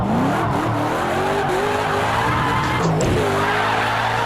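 Drifting Ford Mustang RTR FD race car in Project Cars 2, tires squealing continuously through a slide over a steady engine drone, no voices.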